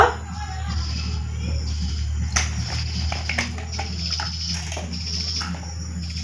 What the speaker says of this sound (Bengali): এখন একটু হালকা জল দিয়ে দিব